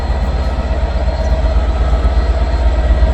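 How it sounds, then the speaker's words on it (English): A DB Class 67 diesel locomotive passes a station platform at Crewe, a loud, continuous engine rumble and throb that stays close and steady throughout, with no talk. "hearing that DB class 67 is always a nice thing to hear at a train platform"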